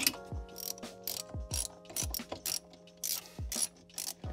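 Rapid ratchet wrench clicks while bolts are tightened to mount an airbag bracket inside a Range Rover L322, in short repeated bursts of ratcheting with brief pauses, close and clear with no talking.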